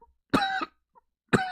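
Two sharp, close coughs from one person, about a second apart, each a short harsh burst with a rough voiced tail, separated by near-silence.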